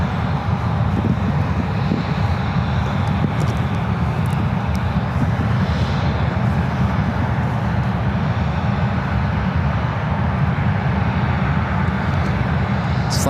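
A Boeing 757 sits lined up on the runway at San Francisco airport, its engines giving off a steady, fairly loud rumble and whine that never lets up, with no talking.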